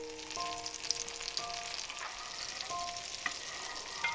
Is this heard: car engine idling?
no